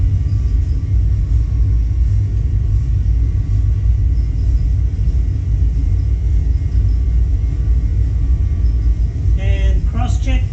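Deep, constant roar and rumble of airliner engines at takeoff thrust during the takeoff roll, heavy low-end drone throughout with brief cockpit voices near the end.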